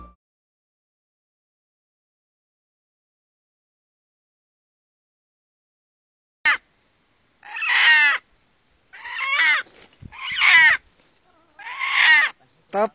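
After a long silence, a series of loud, harsh wild junglefowl calls ring out in several separate bursts, close and clear.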